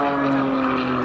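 A jet-powered aerobatic aircraft at an airshow gives a steady, loud engine drone with a sustained tonal hum that holds evenly and alone throughout.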